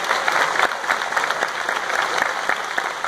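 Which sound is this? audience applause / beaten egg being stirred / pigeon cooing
audience applause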